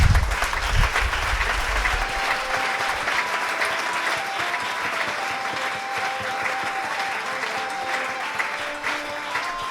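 A church congregation bursts into sustained applause with scattered cheers, a dense, steady roar of clapping that fills the room for nearly ten seconds after a low thump at the start.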